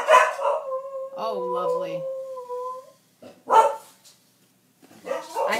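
A puggle dog barks and howls up close, with a sustained wavering howl-like bark followed by short yips, while a person talks nearby between the sounds.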